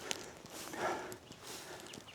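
Horse hooves walking on wet ground, faint clip-clop steps in a loose rhythm heard at a distance, over soft outdoor background noise, no speech.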